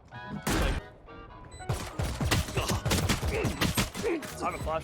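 Rapid gunfire bursts in a Valorant match, loud and close, with a short shot early followed by dense, irregular volleys of cracking shots filling the second half, no talk over them.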